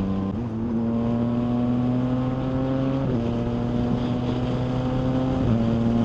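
A Yamaha MT-09 motorcycle with a quick shifter roars steadily at speed on an expressway, its engine and exhaust drone rising in pitch and dropping sharply at each quick upshift, with wind rush underneath.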